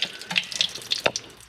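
Water trickles and splashes out of an old Ford that sat for 28 years, a close, uneven series of drips and small gurgling splashes with short pauses between them.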